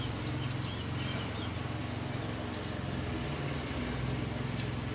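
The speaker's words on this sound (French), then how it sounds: "On voit qu'il fait beau, on entend la tondeuse dehors." A lawn mower drones steadily outside, a constant low engine hum filling the background, with a faint bird chirp now and then.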